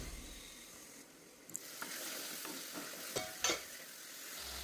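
Sardine curry with tamarind being stirred in a pot, soft scraping and wet sloshing over a quiet simmering hiss, with a few distinct spoon knocks against the pot.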